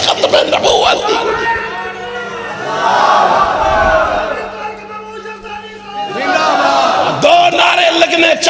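Large crowd yelling religious slogans in loud, surging bursts of massed voices, rising and falling in waves with a steady hum beneath.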